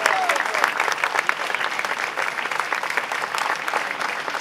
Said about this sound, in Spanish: Acá un aplauso grande, por favor.